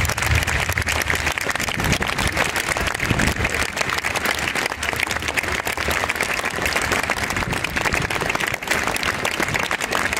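Steady, dense applause from an audience at a tribute to the victims of the November 13, 2015 attacks in France, with sustained clapping at an even level throughout and no speech.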